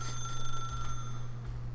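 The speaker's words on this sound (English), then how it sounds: "then pick up the phone" Telephone ringing in the video game The Stanley Parable: a steady electronic ring tone with a constant low hum beneath, continuous and fairly close, with no voices.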